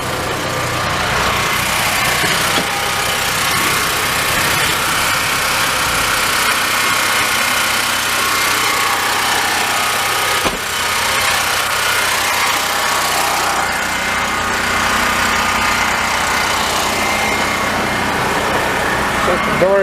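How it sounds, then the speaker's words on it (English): A generator mounted in a utility truck runs steadily under load, a loud constant engine drone with no breaks throughout. "you'll hear that generator get loaded anyway"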